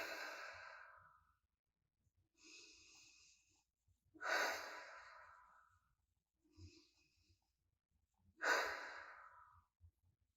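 Three slow, deep breaths drawn in close and quiet after cinnamon essential oil is rubbed between the hands, each a soft airy inhale followed by a gentler exhale, with calm pauses between.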